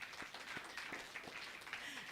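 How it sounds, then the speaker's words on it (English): A live audience gives a round of applause at a speaking and music event, the scattered claps sounding fairly faint and steady, with slightly distant and sparse hand claps throughout. "Round of applause."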